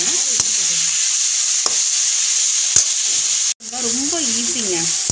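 Onions and tomatoes sizzle and hiss steadily in a hot pan for a fish curry, close and continuous, with a few sharp stirring clicks and a brief pause partway through.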